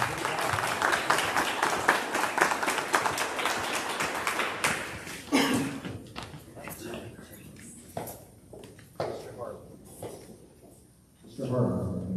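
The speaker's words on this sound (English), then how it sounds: "let's give them another round of applause" Round of applause at a school board meeting for students, steady dense clapping for about five seconds that thins into scattered claps, shuffling and voices.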